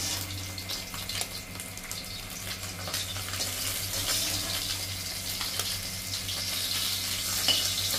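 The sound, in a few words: koi fish frying in a pan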